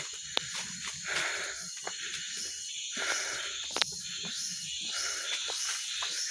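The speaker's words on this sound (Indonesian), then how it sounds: "ngos-ngosan guys" Heavy, wheezy panting of someone out of breath while walking uphill past coffee plantations, breaths repeating close to the microphone over an outdoor background of insect buzz.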